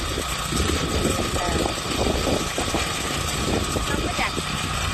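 A small tractor's engine runs steadily nearby, a continuous mechanical drone heard under talking.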